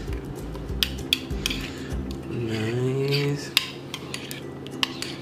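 A utensil scrapes and clinks against a bowl while chicken satay ingredients are mixed, with irregular close knocks and rubbing; a voice speaks briefly.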